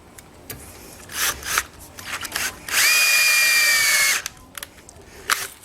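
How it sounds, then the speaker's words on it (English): A power drill whirs in a single sustained burst of about a second and a half during work on a homemade TV antenna, preceded and followed by rubbing and handling noises, close and loud. "Stick it in the drill."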